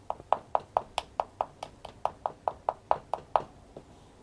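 Knuckles knock on an iBasso Nunchaku portable DAC, about fifteen sharp, light taps in an even, quick rhythm, close but quiet, with nothing else heard.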